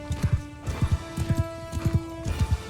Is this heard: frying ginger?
no